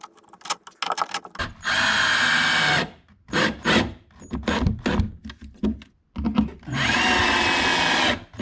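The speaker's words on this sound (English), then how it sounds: "Here I use a 90-degree drill as that has higher ergonomics than a conventional drill." A 90-degree right-angle drill bores pilot holes into the tops of garage shelf brackets, in two sustained whirring bursts of about a second each, separated by clicks, handling noises and short spurts of the motor.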